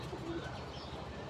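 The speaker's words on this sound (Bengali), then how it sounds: "এই জন্য আমি এত সুন্দর সুন্দর কবুতরগুলো আমি ছেড়ে দিচ্ছি।" Pigeons, racing stock, being let loose, with soft low cooing over a steady, busy background for a short moment; one brief tonal call stands out early on.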